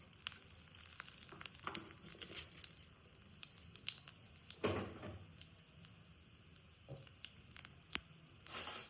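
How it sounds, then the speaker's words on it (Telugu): Mustard seeds, cumin and chana and urad dal tempering dropped into hot ghee, faint crackling pops and spatters scattered over a quiet low sizzle, with no talking. "ఆవాలు జీలకర్ర పచ్చనపప్పు మినప్పప్పు ఉన్న తాలింపు గింజలు అయితే వేసుకుంటున్నాం"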